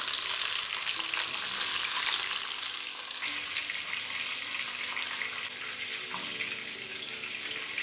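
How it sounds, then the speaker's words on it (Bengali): Tilapia fish frying in hot oil in a pan, a steady close hiss and crackle of sizzling that runs unbroken throughout, slightly louder at the start and easing a little later on. "হালকা একটু কালার এসে গেলেই পাল্টে নিয়ে অপর দিকটাও ভালো করে ভেজে নিন"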